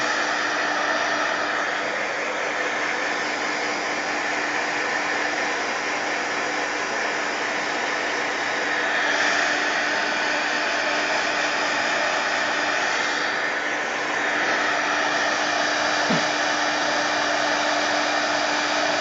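A blow dryer runs steadily, drying a mixed media artwork: a loud, close, continuous airy whoosh with a constant motor hum, holding level for the whole stretch with only slight shifts as it moves.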